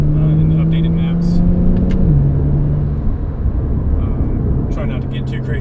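A Porsche with a COBB-tuned PDK dual-clutch gearbox accelerates hard at wide open throttle, its loud, steady engine drone dropping pitch once in a quick upshift partway through, with some wind noise around it.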